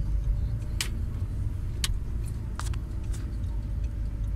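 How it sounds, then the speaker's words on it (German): A car pulls away and turns left on a driving-test route, its engine a steady low hum throughout with a few light ticks of the indicator above it. "wir fahren mal los und biegen links ab"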